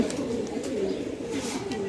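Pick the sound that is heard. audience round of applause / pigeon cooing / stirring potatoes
pigeon cooing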